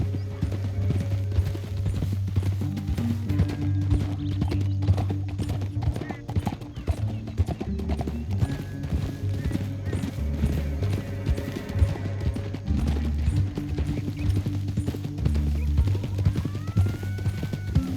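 Steady clip-clop of horse hooves at a trot in the video game Red Dead Redemption 2 runs throughout, with a brief whinny and voices talking over the hoofbeats.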